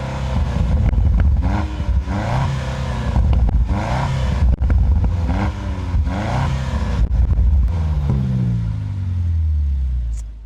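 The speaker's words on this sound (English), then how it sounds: "You guys can hear what that engine sounds like real quick." The BMW-sourced engine of a 2025 Land Rover Defender OCTA with active quad exhaust cranks and fires up, then runs in loud, throaty revving bursts that rise and fall several times before settling toward idle.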